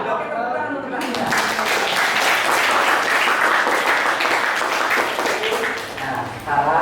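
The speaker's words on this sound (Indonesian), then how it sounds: "Oke, tepuk tangan untuk kita." Classroom audience clapping together after an ice-breaking activity, a dense burst of applause starting at about one second and lasting several seconds before tapering off near the end; a voice is briefly audible at the start.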